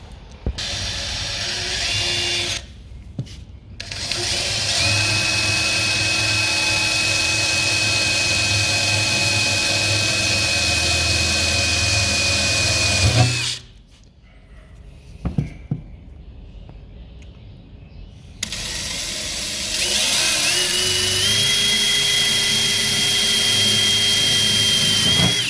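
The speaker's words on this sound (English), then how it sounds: "Okay, now we can drill." An electric drill whines loudly in long sustained bursts while drilling for a license plate bracket, pitch steady and high, stopping briefly twice before spinning up again.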